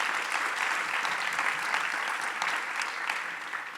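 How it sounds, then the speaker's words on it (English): A room of attendees applauds a panel sharing lived experiences of bias, with dense, even clapping that holds steady and slightly tapers over a few seconds, with no speech. "So let's give them one round of applause."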